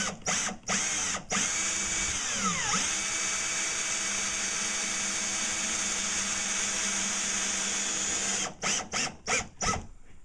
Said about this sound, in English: I've also got my drill on high